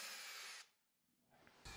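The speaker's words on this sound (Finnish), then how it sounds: "Tämähän pitäisi tehdä käsityökalu vääntämällä, mutta se menee niin kauan aikaa, että päätin käyttää ihan porakonetta." A power drill drives a thread-cutting tap into bolt holes on a BMW M50/M52 engine, whining loudly, dropping to near silence midway, then starting again sharply at the end.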